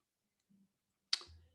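A single crisp computer mouse click, close and quiet, preceded by a faint soft tap and followed by a brief low thud, in an otherwise silent room.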